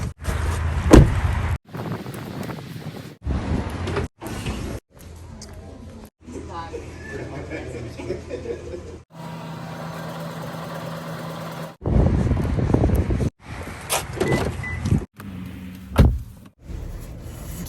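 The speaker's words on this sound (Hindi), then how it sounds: "गाड़ी में आए हैं, गाड़ी चलाई है, गाड़ी गर्म हो रही है" A car is started and left to warm up on a snowy day, with door thumps, power window motor whirs and engine rumble in separate close bursts, while someone talks through much of it.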